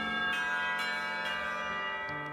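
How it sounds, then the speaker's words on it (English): School bells peal in the visual novel Katawa Shoujo, a steady ringing chime with repeated strikes sustaining over a rich tonal hum, clear and alone with no talking. "If it weren't for the pealing of those bells"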